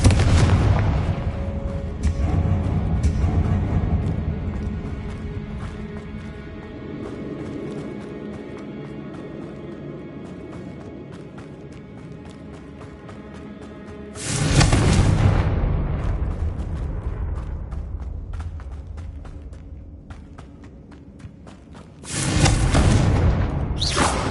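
Fiery blasting-spell explosions from the Hogwarts Legacy video game on PS5 boom three times, loud and close, each with a long rumbling decay, separated by quieter gaps.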